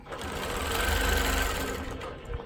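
Longarm quilting machine stitching diagonal crosshatching, a steady rapid mechanical whir of the needle running continuously, close and fairly loud.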